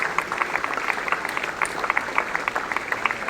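Audience applause at the Chinar Book Festival at SKICC Srinagar, steady dense clapping from a crowd in a hall, continuous and moderately loud.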